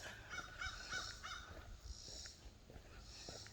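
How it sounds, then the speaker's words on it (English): Crows cawing outdoors, several short harsh calls in a quick run early on and then sparser, fainter caws over a steady low ambient rumble. "Them crows is calling."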